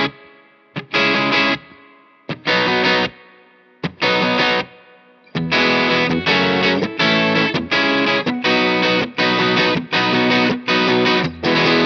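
Gibson-style ES-335 electric guitar played through a Foxcatcher overdrive pedal set for subtle drive, lightly gritty clean tone; a few separated strummed chords, then a steady rhythmic run of loud strums with brief gaps, no talking.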